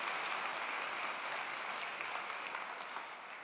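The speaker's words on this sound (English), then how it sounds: "One more round of applause," Convocation audience at a university graduation ceremony applauds steadily, a dense, even wash of many hands clapping at a distance, fairly faint and gradually easing.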